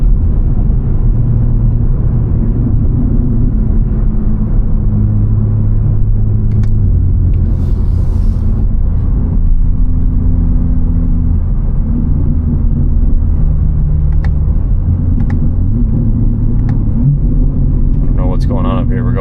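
A BMW G80 M3 heard from inside the cabin: a steady, loud low engine rumble runs throughout, with its pitch stepping and shifting as the car changes gears.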